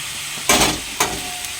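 Cucumber pieces cooking in a pan for a fish curry give two bursts of hot sizzling, a strong one then a shorter one, with quiet between and no talk.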